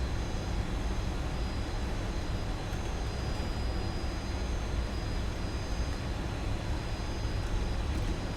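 A classic airliner taxis toward the terminal in a flight simulator, giving a steady low engine drone with an even rumbling hum throughout and no distinct changes.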